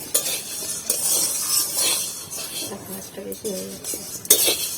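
Wheat grains dry-roasting in a pan while being stirred, with close scraping and clinking of a spoon against metal over a light sizzle, and a voice talking briefly.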